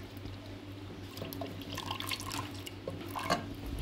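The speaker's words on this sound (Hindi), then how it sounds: "अब हम इसके थोड़ा सा पानी डालेंगे एक साइड पे करके।" A little water is poured into one side of a pan of stuffed tinda, giving quiet trickles and drips that splash lightly and irregularly over a low steady hum.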